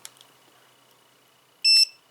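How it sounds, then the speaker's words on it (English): A single short, high electronic beep from a portable electric pulse neck massager powering on sounds near the end, clear and close, after near silence with a couple of faint clicks. "you can hear that beep"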